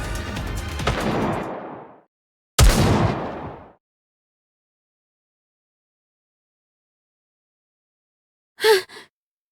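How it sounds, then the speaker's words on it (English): Two heavy, booming gunshot-like blasts with long rumbling decays in the video game Goddess of Victory: Nikke, followed by a short pause and a quick distant double pop. "Those gunshots."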